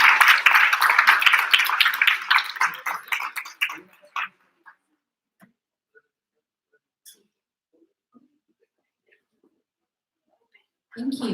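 An audience at an English public speaking competition applauds the participants, loud rapid clapping that fades out after about four seconds, followed by near silence with a few scattered claps and a voice returning at the end.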